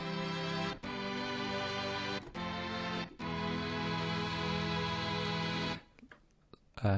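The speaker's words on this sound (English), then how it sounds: "Kind of a string section with that mellotron kind of feel about it." A soft synth string-section preset with a mellotron-like feel plays sustained chords in lush, slightly wavering layers, changing chords several times before fading out.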